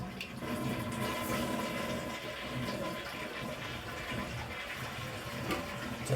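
A toilet flushing after its sticking handle was loosened, with water rushing steadily and loudly for several seconds, then continuing to swirl and refill in the bowl and tank.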